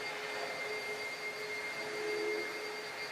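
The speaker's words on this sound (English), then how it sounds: "she's just vacuuming the floor, or vacuuming this little rug" A vacuum cleaner runs over a small rug with a steady, continuous whine and broadband roar at close range, with no speech.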